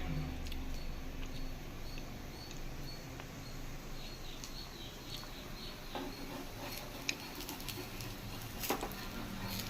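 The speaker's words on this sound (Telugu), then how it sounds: "చినుకులు పడుతున్నాయి బయట." Light drizzle falls outdoors, a faint, soft, steady patter with scattered small drop ticks and occasional sharper taps.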